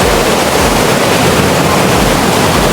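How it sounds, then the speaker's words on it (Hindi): Meltwater from a glacier roars through the Aare canyon in the Swiss mountains, a constant heavy wash of white noise that is near and loud, with a low rumble underneath and nothing else audible. "पानी का शोर चेक करें।"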